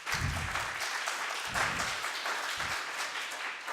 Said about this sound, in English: I really appreciate the applause